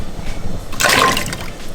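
Water poured into a cooking pot for Japanese curry, a short rushing splash that swells and fades over about a second, close and fairly loud without talk.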